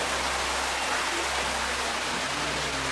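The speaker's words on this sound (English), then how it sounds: "So this is where the water flow in the cave comes down." Underground waterfall in a cave, a steady dense hiss and rush of falling water, evenly sustained and moderately distant, with a faint low hum beneath.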